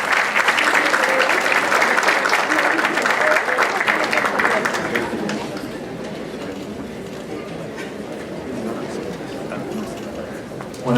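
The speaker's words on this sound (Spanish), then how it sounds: "Damos un fuerte aplauso" Dense applause from a conference audience welcoming a speaker on education, loud and sustained for about five seconds before fading into quieter room murmur and scattered claps.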